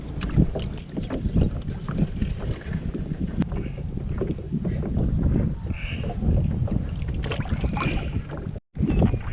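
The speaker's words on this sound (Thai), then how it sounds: "สู้กับลม คอนโทรลเรือยากใช่ไหม" Strong gusting wind buffets the microphone while a small boat is rowed on open water, a loud, rough, continuous rush with brief drops and a short gap near the end.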